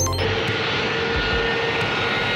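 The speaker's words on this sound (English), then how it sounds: "an airborne warning and control aircraft with a rotating radar dome" An E-3 Sentry, a military airborne warning and control jet with a rotating radar dome, gives a loud, steady engine roar that fills the whole moment.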